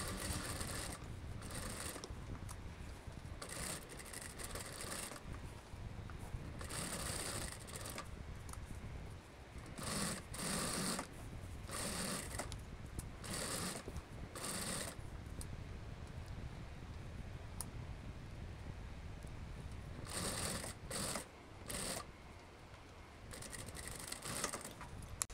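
A sewing machine runs in short, quiet bursts of rapid stitching along the edge of a ruffled godet skirt, with brief pauses between runs and no talking.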